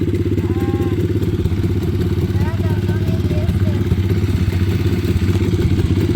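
A pit bike motorcycle engine runs steadily near the microphone, a constant mid-pitched throb as the rider eases out the clutch in first gear to pull away, with faint chirpy background sounds over it.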